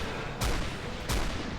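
Two single pistol shots tap-fired in a video game, spaced under a second apart, each a loud thump over a dense, noisy background.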